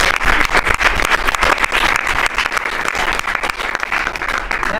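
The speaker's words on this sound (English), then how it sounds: "The press actually broke out in applause." Members of the press break into lively applause at a presidential cabinet meeting, a dense, close burst of clapping that continues steadily for several seconds with no talk over it.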